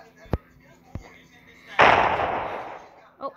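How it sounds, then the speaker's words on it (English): Gunshots in a video game: two sharp cracks, then a louder blast with a lingering noisy tail that fades out, followed by a short faint sound at the end. "I heard a gunshot"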